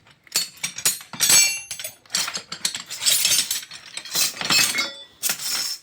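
Metal wrenches clink and rattle as someone rummages through them during a tire puncture repair, irregular bursts of close, bright clanking with short pauses between.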